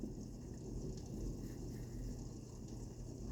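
Rain from a dying thunderstorm falls as a soft, steady wash of noise with a low rumble underneath, faint and continuous, with no talking.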